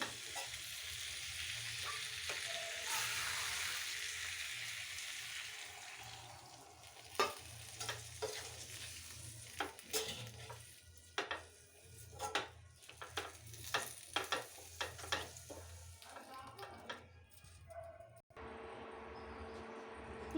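Curry sautéing in a pan hisses steadily at first, then gives way to a busy run of scraping and clattering stirs against the pan, close and moderately quiet, with no talk.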